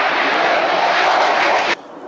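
A Sea Vixen jet aircraft at an air show roars past loud and close in a steady broadband rush that cuts off abruptly, with faint commentary behind it.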